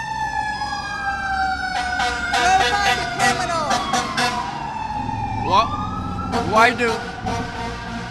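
Several fire engine sirens wail loudly and overlap in rising and falling tones, with an air-horn blast, in a busy street protest, while someone talks over them.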